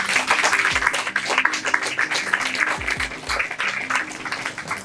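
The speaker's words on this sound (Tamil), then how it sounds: "அதற்காக அவர்களுக்கு நமக்கு ஒரு கரகோஷம் கொடுப்போம்" An audience at a Tamil-language lecture applauds a professor, giving brisk, continuous clapping of moderate loudness with a few dull low thumps mixed in and no speech.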